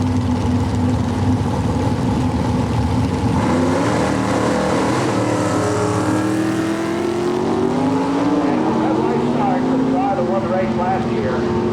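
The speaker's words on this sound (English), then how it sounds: "This wild Chevrolet Vega is up against Mike Giuliano from Wantagh, New York." A Chevrolet Vega and a big block Camaro drag race at an NHRA Winston divisional event in 1997, with loud sustained engine roar rising and shifting in pitch under an announcer's voice.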